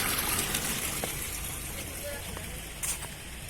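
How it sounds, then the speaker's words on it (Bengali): Water falling at Shoilo Propat waterfall in Bandarban, a broad continuous rushing wash at moderate level, steady throughout with brief faint clicks on top. "এই যে পানি পড়তেছে"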